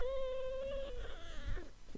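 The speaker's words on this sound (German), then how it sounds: "Ey, sie hat ins Mikrofon miaut." A single drawn-out cat meow into a microphone, close and clear, lasting about a second, followed by brief softer cat sounds and light rustling.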